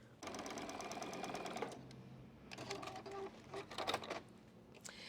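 A sewing machine stitches quilt binding in quick bursts of rapid mechanical chatter, a longer run first, then shorter spurts separated by brief pauses, close up and alone.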